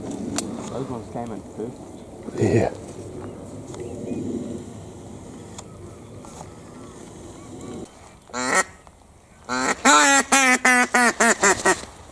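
Ducks on a hunt call in a run of loud, close, evenly spaced quacks near the end, following an earlier burst and quieter stretches with people talking in the background.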